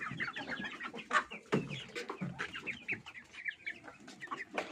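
Hairy baladi chickens clucking and chattering nearby in a busy, overlapping flock, soft murmurs mixed with sharper squawks at moderate volume.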